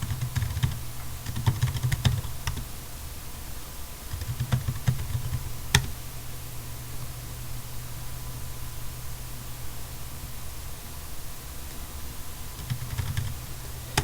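A username and password being typed on a computer keyboard at an Ubuntu server login, with sparse clusters of soft key clicks separated by pauses, faint and close against a steady hiss.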